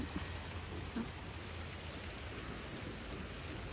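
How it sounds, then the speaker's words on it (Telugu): Rain falls steadily over a home vegetable and fruit garden, an even, close hiss of drops on surfaces with occasional louder patters. "ఇదిగోండి, వర్షం పడుతుంది."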